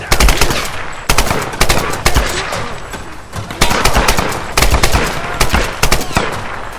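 Gunfire in Tomb Raider 2013 comes as loud, close bursts of rapid automatic shots with short gaps between volleys, continuing throughout with no speech over it.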